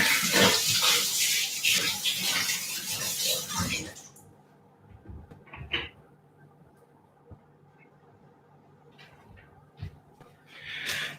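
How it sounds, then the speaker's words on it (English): Hands are washed under a running tap, a steady hiss of splashing water for about four seconds that then cuts off, leaving faint clicks and a voice talking, with the water briefly returning near the end. "So just wash my hands and I'll be back."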